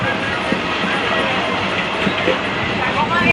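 A suburban commuter train between Baghajatin and Sealdah rumbles loud and steady on the rails, with occasional wheel clicks and indistinct voices, ending in an abrupt cut.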